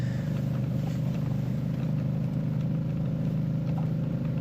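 A Can-Am 400 quad's engine runs at a steady idle, a low, continuous hum with an even mechanical throb that holds unchanged, moderately quiet and alone.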